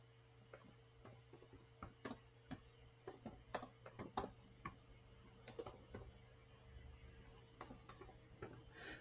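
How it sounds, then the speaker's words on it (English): Typing on a computer keyboard: faint, close clicking keystrokes in irregular bursts over a steady low background hum, with no speech. "I'm just going to type it in."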